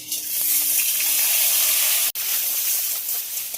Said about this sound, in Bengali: এবার ওই তেলের মধ্যে মশলাগুলো সব ভেজে নেব